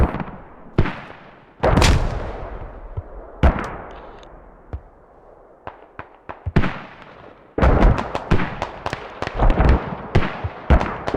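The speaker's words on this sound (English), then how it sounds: "That sounded like might be a hell cannon" Heavy artillery fire from a hell cannon in the military shooter game Squad, with loud booming blasts scattered irregularly, then a dense rapid burst of shots and explosions near the end.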